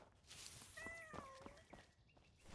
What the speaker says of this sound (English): I hear a cat, too.